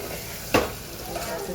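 Vegetables, cluster beans with potatoes about to go in, get stirred in a frying pan: a single quick scrape of the spoon stands out briefly over a steady low sizzle, with no talk.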